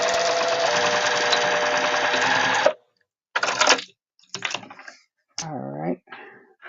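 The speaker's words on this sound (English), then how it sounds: "So now I'm gonna sew this on here." A sewing machine runs steadily for almost three seconds while stitching a pocket onto a quilt layered with foam and stabilizer, then stops. Brief rustles and a voice follow in the quieter second half.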